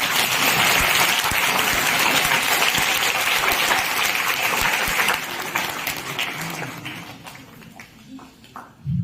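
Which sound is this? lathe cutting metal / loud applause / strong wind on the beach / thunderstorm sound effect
loud applause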